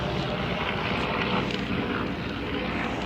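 Broadband roar of a fixed-wing airplane passing overhead, steady and fairly loud throughout with some wind rumble, no talking.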